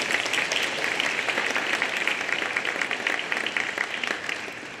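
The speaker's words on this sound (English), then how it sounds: "So let's give these 3 students a round of applause." An awards-night audience applauds students: dense, steady clapping that fills the whole stretch at an even, sustained level without a break.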